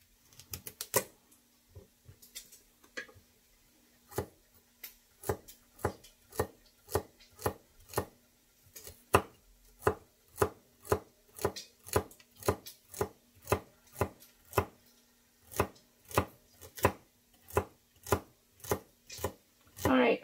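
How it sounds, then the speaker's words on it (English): A knife chops celery stalks on a cutting board, with steady, evenly spaced crisp thuds that start uneven and settle into a brisk regular rhythm, close and clear, with no talk. "I'm going to finish cutting up the other two stalks of celery"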